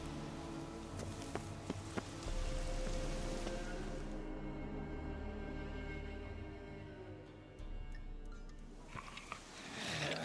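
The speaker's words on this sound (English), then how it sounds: "Looks like rain." Steady rain in The Witcher 3 with soft clip-clopping steps and low rumble, the downpour thinning midway before swelling again near the end.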